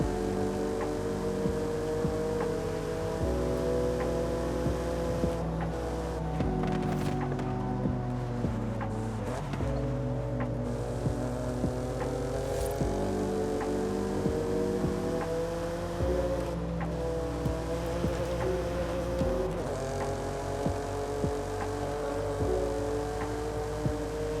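A BMW M4 engine in Forza Horizon 5 drones steadily with shifting harmonic tones, revs rising and falling in stepped gear changes, loud and continuous with no talk over it.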